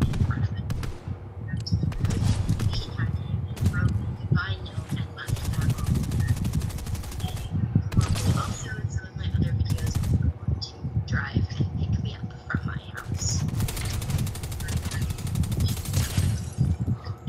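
Rapid gunfire from the video game Fortnite crackles almost nonstop, bursts of automatic shots layered over one another at close range with dense clatter throughout.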